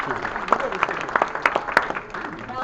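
Scattered applause from a small crowd at a Liberty Tea Party Patriots meeting in a tavern, uneven claps rising and tapering over a couple of seconds with murmuring voices underneath.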